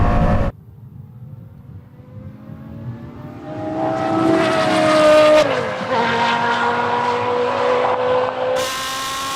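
A Lexus LFA and a Porsche Carrera GT launch side by side in a drag race, engines climbing in pitch through rising gears with a sharp shift midway, loud and continuous before cutting off abruptly.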